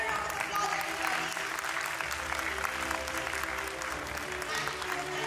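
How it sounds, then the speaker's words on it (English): Audience applause fills a preschool annual concert hall, a steady dense clapping from a large crowd that holds at an even level throughout. "Can we have a bigger round of applause, everybody?"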